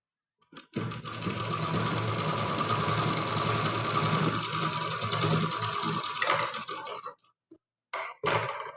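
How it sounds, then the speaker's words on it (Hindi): Sewing machine stitching a salwar seam up to a cut, running steadily near and loud for about six seconds before stopping, followed by a few short bursts of handling. "ये रहा, इस कट तक सिलाई लगाएंगे"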